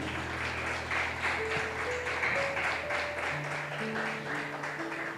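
A church congregation at a Spanish-language service gives sustained applause, a steady wash of many hands clapping with a held organ or keyboard chord underneath and no talk.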